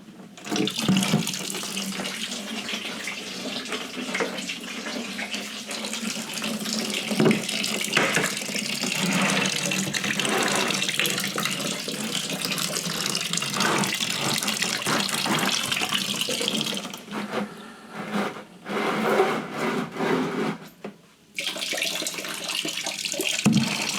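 Homebrew wort for a low-alcohol SMaSH beer runs from the grain bed into a bucket, a continuous splashing trickle of liquid that stays steady and close, with a brief break near the end and no voices.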